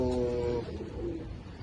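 Pigeons from a Firozpuri and teddy cross coo softly in a low, throaty murmur that fades after the first half second into quieter background rustle.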